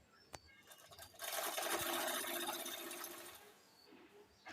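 Sewing machine stitching elastic and cloth together for baby pants, a click and then a steady, close whirring run of several seconds before slowing to a stop.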